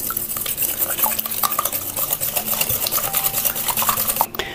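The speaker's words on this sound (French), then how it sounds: "Je vais ajouter les œufs. Donc là, on va fouetter." Eggs and sugar being whisked in a salad bowl for an apple dessert, a steady fast scraping and clinking of whisk against the bowl, close and continuous with no voices.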